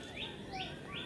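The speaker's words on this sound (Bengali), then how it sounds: "তে পাখির ডাকছে গাছে" Three rising, whistled calls of birds in a tree repeat at a steady pace, faint and slightly distant against a quiet outdoor background.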